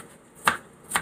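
Ice being chopped out of a deep freezer: two sharp, separate impacts about half a second apart, close and fairly loud against a quiet room.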